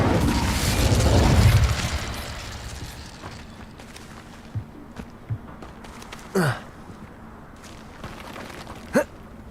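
Confringo and Incendio spell blasts cast in Hogwarts Legacy, a loud whooshing burst at first that fades, followed by a few sharp, scattered magical pops and crackles.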